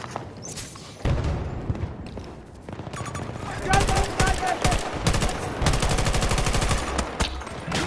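Rapid automatic gunfire from a Battlefield 2042 match rattles in dense, overlapping bursts, loud and close, with heavy thuds of a busy firefight on the Orbital map.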